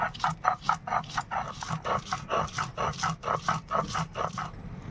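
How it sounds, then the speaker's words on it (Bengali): Soaked masoor lentils being ground by hand on a flat grinding stone, heard as a steady rhythm of rough, scraping back-and-forth strokes at close range. "তো আমি এটা শিলেতে বেটে নিচ্ছি।"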